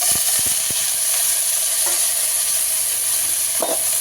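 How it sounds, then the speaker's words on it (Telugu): Pieces of veldt grape (nalleru) stalk are stir-fried in a pan with oil, giving a steady close sizzle with a few scraping stirs of a spoon against the pan. "ఇప్పుడు ఈ నల్లేరికాయల ముక్కలు వేస్తున్నాను"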